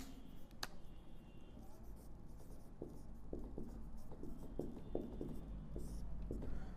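Pen writing out a Class 10 maths word problem on age, a close scratching of strokes and short taps with no talk over it.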